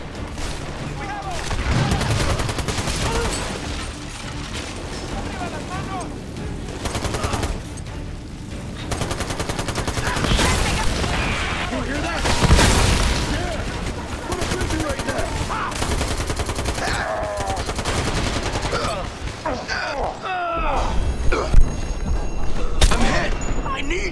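Sustained firefight in Army of Two: The Devil's Cartel, loud and dense with automatic fire, single shots and booming impacts overlapping, while shouted voices come through the chaos.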